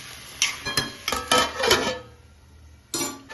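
A metal lid goes onto a pot of brinjal curry with a quick run of close clinks and clatters, a pause, then one more sharp clank, loud and with no voices.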